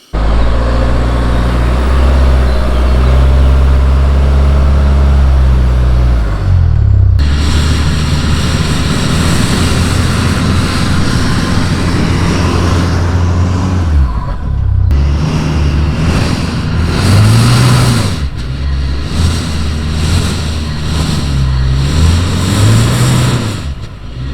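A Land Rover Discovery Sport stuck in sand, its engine revving hard in loud, rising and falling surges with changes in pitch, close up and with no voices.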